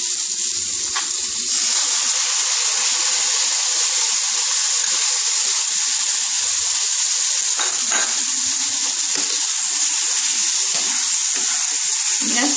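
Spice paste sizzles hard in hot oil in a pan of potato and pointed gourd curry, a loud, continuous hissing crackle close up with a few faint bubbling pops and no talk.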